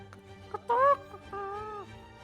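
A person imitates a chicken with a short vocal cluck followed by a longer drawn-out squawk, close and fairly quiet against a faint background hum.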